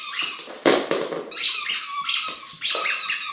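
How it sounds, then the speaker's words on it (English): A dog chews a squeaky toy ball, producing repeated sharp squeaks and rubbery crunches in an uneven rhythm, loud and close. "Squeaking the ball fun."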